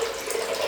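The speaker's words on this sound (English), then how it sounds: "now I'm just gonna fill in with medium hot water" Medium-hot water runs from a tap into a filling sink, a steady close hiss and splash with no talk.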